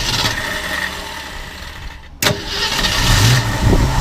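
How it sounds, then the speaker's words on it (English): A 1968 Mercury Cougar V8 cranks briefly, catches with a sharp burst and settles into a loud, steady idle with a low rumble close by, with no talking. "Why don't we go ahead and start it up?"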